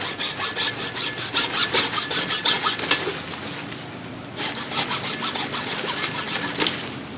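Rapid back-and-forth sawing strokes from a hacksaw biting through a long mulberry branch, steady and close, with a brief pause before the rhythmic cutting resumes.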